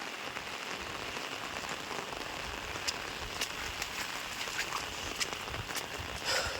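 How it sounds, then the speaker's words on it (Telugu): Heavy rain falls nonstop in a loud, dense wash of hiss, scattered with sharper drop ticks and spatters, with no voices. "full వానలే friends"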